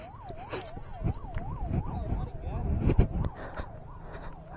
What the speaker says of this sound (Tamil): இங்கேயும் ஆம்புலன்ஸ்